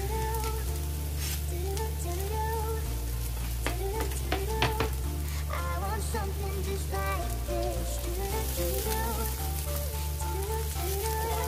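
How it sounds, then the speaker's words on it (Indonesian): Shallots and garlic frying in oil for a Hong Kong style loofah and egg soup, a steady close sizzle running throughout beneath background music, with no talk over it. "Dan sekarang kita tambahkan sedikit minyak, teman-teman, untuk menumis bawang merah,"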